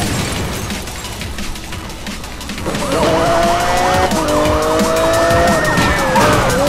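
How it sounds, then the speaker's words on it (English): A car braking hard and sliding in Need for Speed: Most Wanted (2012): a loud, sustained tire screech over engine roar, with siren-like wailing tones, continuous and without talk. "I think that was more manual braking than drifting"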